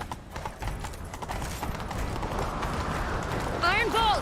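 A horse galloping in The Witcher 3: Wild Hunt, rapid rhythmic hoofbeats pounding close and steady, with a whinny near the end amid game ambience.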